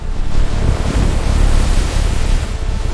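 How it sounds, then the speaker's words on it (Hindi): Loud, continuous roar of heavy surf with deep rumbling and wind-like hiss, sustained throughout without any speech. "10 मंजिला लहरें,"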